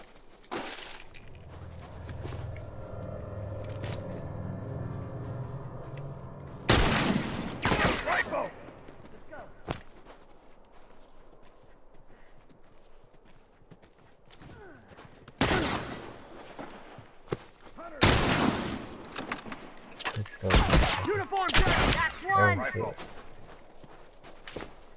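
Rifle fire in The Last of Us Remastered, loud cracking shots in scattered bursts with quieter stretches between them, along with footsteps and shattering sounds, while a person talks over parts of it.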